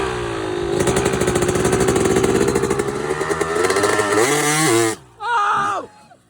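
A dirt bike engine revs hard and steady in first gear, a loud buzzing drone that climbs and wavers before cutting off abruptly as the clutch is dumped, followed by a brief voice.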